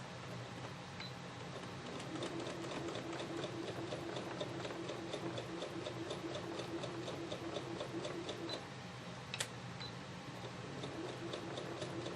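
A sewing machine stitches through fabric for a machine-embroidery quilt, with steady fast ticking needle strokes running continuously and close, a brief louder click near the end, with no talking.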